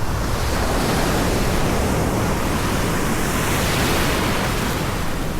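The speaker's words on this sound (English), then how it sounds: "there's some waves coming up right now, hold on" Ocean waves roll and wash in a steady, loud surf roar with wind buffeting the microphone, continuous throughout with no voices.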